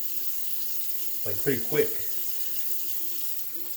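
Water runs from a tap to rinse an OmniShaver, a steady wash under a brief spoken phrase in the middle.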